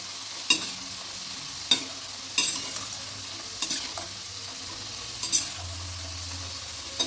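Nimki, small fried dough snacks, bubble steadily in hot oil while a ladle stirs them, knocking against the pan in separate scraping strokes every second or so over a continuous close sizzle.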